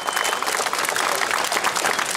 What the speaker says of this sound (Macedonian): Го заслужуваш овој аплауз.